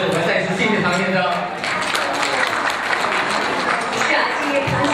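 A crowd at a community Spring Festival gala banquet applauds warmly in a continuous, full-sounding wash of clapping, with voices blended in throughout.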